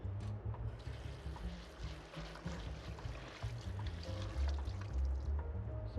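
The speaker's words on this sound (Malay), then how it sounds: "So pulut yang dah ditapis ni kita bilas sikit." Water splashing and running over soaked glutinous rice as it is rinsed in a kitchen, a faint continuous watery wash with small sloshing swells throughout.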